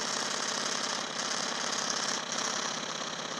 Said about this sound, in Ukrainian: Запускаємо. Колесо крутиться досить потужно.